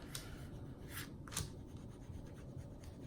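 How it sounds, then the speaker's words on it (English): The back end of a drawing pencil rubs and burnishes down watercolor paper in close, soft scratchy strokes, a steady faint rasping with a few brighter swipes. "I take the back end of it and I just kind of burnish that down"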